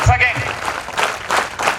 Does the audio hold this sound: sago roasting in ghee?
no